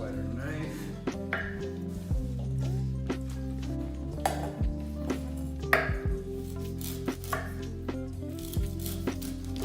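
A knife cuts on a board while ingredients are prepared for roasted corn salsa: quiet, irregular taps and slices against a steady low hum, with a voice talking in the background.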